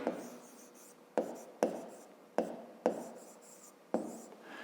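Pen writing on paper while working a fifth-grade maths exercise, steady scratchy strokes broken by sharp taps every second or so, close and fairly quiet with no talk.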